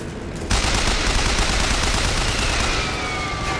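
Rapid automatic gunfire from a BioShock Infinite weapon rattles out in a dense, continuous burst that starts abruptly and stays loud and close, with a faint whine building toward the end.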